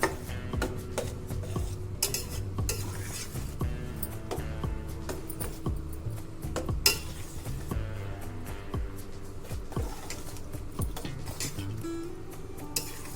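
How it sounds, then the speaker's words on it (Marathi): Carrot halwa stirred with milk in a pan, a spoon scraping and clinking against the metal in a steady, busy rhythm, with a low hum underneath and no talking. "दूध टाकल्यानंतर चांगलं परतून घ्यायचं आपल्याला"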